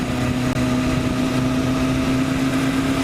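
Kawasaki Ninja 400 motorcycle with a new aftermarket exhaust, a steady droning engine hum with a strong low tone, continuous and close throughout the short stretch, no talking.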